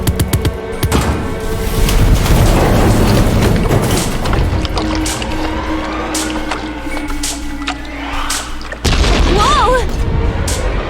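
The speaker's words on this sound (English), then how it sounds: "Big explosion." A big explosion in the video game AI: The Somnium Files, a loud, booming blast with rumbling, crackling debris that rolls on for several seconds, followed by a second heavy burst near the end.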